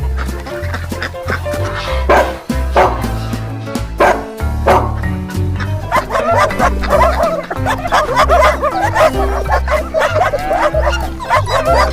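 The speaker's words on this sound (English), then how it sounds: "Dog." A dog barks repeatedly in short, sharp yips and barks, loud and close, over a steady rhythmic backing of music, with clucking fowl sounds mixed in.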